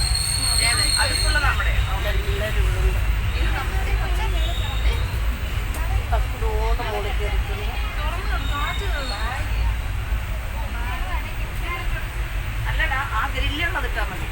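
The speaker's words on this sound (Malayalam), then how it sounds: "അങ്ങനെ ട്രെയിൻ സ്റ്റാർട്ട് ചെയ്തിട്ടുണ്ട്" A passenger train starts and rumbles along steadily with a constant low roar and metallic rattling, while people talk over the noise.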